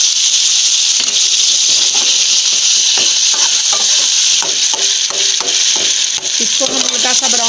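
Chopped tomato fries with well-browned onion in a hot pan, a loud continuous sizzle with light stirring scrapes and crackles, close up and without talking.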